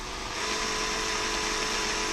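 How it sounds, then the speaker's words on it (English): A steady, high-pitched whine of a small power drill boring a hole in a chopstick runs continuously, close and fairly loud, with no pauses. "why is he drilling a hole in a chopstick?"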